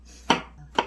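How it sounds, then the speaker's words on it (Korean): Two distinct knife chops strike a cutting board in a home kitchen, each a crisp, close thud about half a second apart, with no voices. "잘하던 칼질도 왜 이상하게 돼?"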